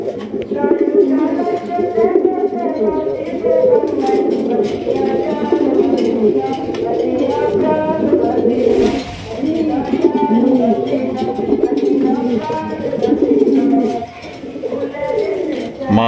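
Large Raj Golla pigeons coo repeatedly in a loft, soft throaty calls rolling on steadily with people talking over them.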